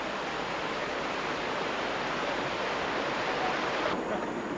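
A waterfall in Ireland roars as a steady, dense broadband rush of falling water, constant and fairly loud throughout with no voices.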